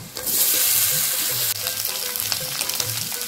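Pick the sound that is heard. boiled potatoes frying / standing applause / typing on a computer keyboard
boiled potatoes frying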